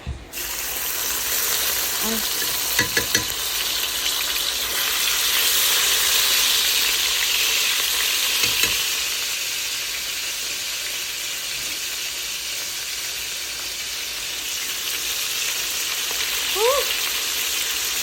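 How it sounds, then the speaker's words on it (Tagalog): Beef pieces fry in hot oil for a beef stick snack, a steady broadband sizzle running throughout with a few faint clicks and brief spatters, close and fairly loud. "Piprituhin lang natin ang ating beef."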